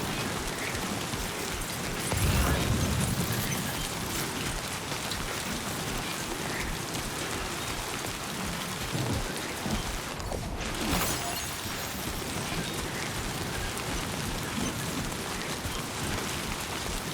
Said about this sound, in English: There's so much rain.